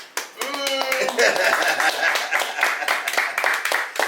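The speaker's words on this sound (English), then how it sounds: "Round of applause." A studio audience claps in a round of applause during a sit-down interview, dense and fairly close, with voices talking over it at the start.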